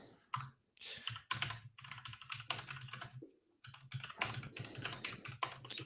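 Rapid bursts of typing on a computer keyboard, close and fairly loud, with short pauses between runs of clicking and no talk.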